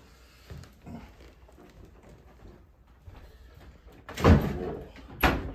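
A door is opened for a visitor with a sharp knock or bang, then a second thud a moment later, against quiet rustling and low room noise.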